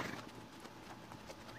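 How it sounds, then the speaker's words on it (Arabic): A horse's hooves clip-clop in a steady rhythm, faint and somewhat distant, over constant background noise in an Arabic language lesson. "لا، هذا حصان"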